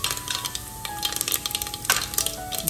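Two dry red chillies and cumin seeds sizzle and crackle steadily in hot oil, close and moderately quiet, with faint stirring and light clinks of a utensil against the pan.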